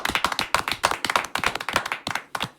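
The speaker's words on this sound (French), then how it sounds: "Nous applaudissons, Isabelle." A crowd applauds at a televised tribute honouring a campaigner for people with sickle cell disease in France, steady close clapping from many hands with an even rhythm, no voices.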